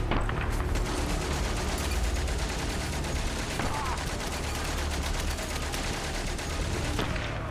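Continuous rapid gunfire from the video game Valiant Hearts: The Great War rattles throughout, dense and loud, like automatic weapons firing without a break.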